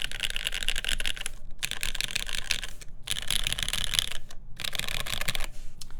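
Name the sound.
mechanical keyboard typing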